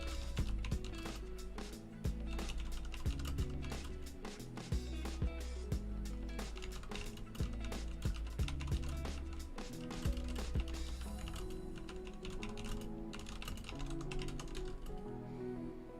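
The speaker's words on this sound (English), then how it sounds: "I'm just typing on Twitter." Typing on a computer keyboard while posting on Twitter, a steady close stream of rapid key clicks with irregular bursts and brief pauses over continuous background music.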